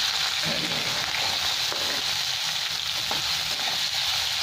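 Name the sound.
onions frying in a pan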